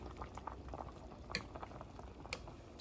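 A pot of cabbage, yellow and white corn, cauliflower, thyme and bok choy at a rolling boil, bubbling softly and continuously with a couple of faint clinks nearby.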